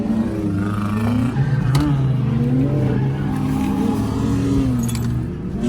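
A Nissan 350Z drift car at Apple Valley Speedway creeping forward, its engine giving a loud, close, wavering growl that rises and falls across the whole stretch.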